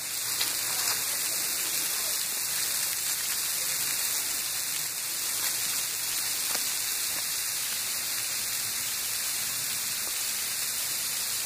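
Sleet falls outdoors in a steady, even hiss, a dense wash of fine ice pellets pattering without pause, heard close and at a constant level throughout.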